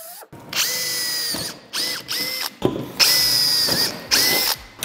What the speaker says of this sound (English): I'm gonna drill out the last holes, quarter inch holes for the snow flap bracket